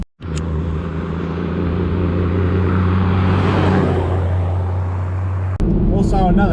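Toyota 79 Series Landcruiser with a rebuilt 1HZ turbo diesel engine driving, a steady low engine drone and road rumble heard from inside, continuous and fairly loud, with a brief bump near the end.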